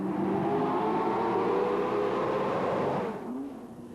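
A 1965 Ford GT40 V8 sport prototype race car drives the wooded road section at Montlhéry during the Tour Auto, its engine a steady, loud drone that eases off near the end.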